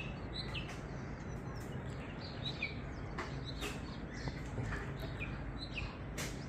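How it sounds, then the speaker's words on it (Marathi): Birds chirp and call intermittently in the morning at Devgad in Konkan, near a hill and the sea. The short, scattered high tweets sound moderately distant over a steady, loud wash of wind-like background noise, with no talking. "पक्ष्यांचे आवाज"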